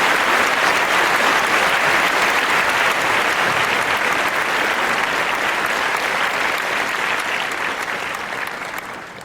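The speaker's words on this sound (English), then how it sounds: "A thunderous applause filled the ballroom." Thunderous applause fills a ballroom after a speech at a ladies' meal, a loud, thick wash of clapping from a large crowd that holds steady and then begins to taper off at the end.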